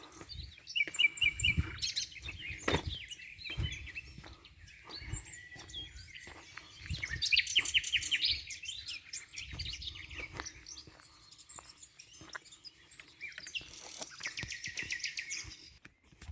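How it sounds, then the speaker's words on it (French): Birds chirp and tweet in open, flat countryside near fords on a stream, with repeated close calls and song phrases scattered through and faint insect-like hiss between, footsteps or handling thumps underneath. "Écoutez-moi ce chant des oiseaux."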